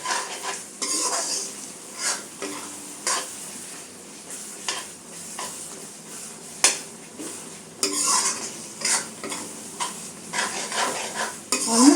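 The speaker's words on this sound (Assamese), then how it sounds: "তেতিয়ালৈকে আমি এইখিনি ফ্ৰাই কৰি থাকিম মছলাখিনি।" Masala spices frying in a pan for jackfruit curry, with a steady soft sizzle under repeated scraping and clinking of a spoon being stirred around the pot, close and moderately quiet, no talking.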